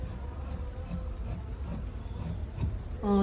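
Scissors cut through blouse fabric with a steady, close rasping and rubbing sound that continues throughout, ending in a brief louder tone.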